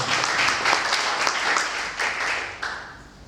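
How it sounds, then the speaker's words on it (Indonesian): A church congregation applauds for the glory of God after a sermon, a dense, sustained wash of clapping from many hands, fairly near and loud, with faint voices underneath. "Jadi beri tepuk tangan untuk kemuliaan Allah."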